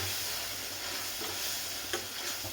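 Egg curry masala fries in a little oil with a steady, soft sizzle, plus a faint stir or scrape near the end.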